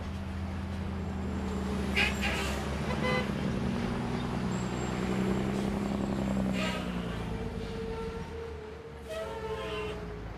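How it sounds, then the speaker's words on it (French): Heavy trucks rumble past a house only a few metres away, a continuous loud low roar with engine drone, faint horn-like tones and insect chirps over it. "passent avec leurs camions rugissants à quelques mètres de la maison"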